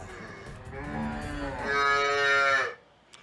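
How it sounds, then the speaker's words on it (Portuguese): Cattle mooing loudly on a town street in Águas Lindas de Goiás, a long drawn-out low bellow that swells and rises in pitch before cutting off, heard alone and close. "a invasão das vacas na região do entorno"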